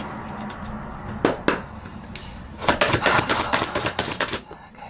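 Tarot cards being shuffled by hand, a run of quick crisp riffling slaps and flicks in irregular bursts, close and fairly loud with no talk.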